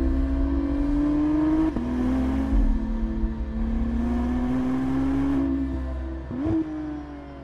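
A McLaren Artura supercar with a twin-turbo V6 hybrid engine and 8-speed dual-clutch gearbox accelerates hard, its loud rising engine note broken by two quick gear shifts.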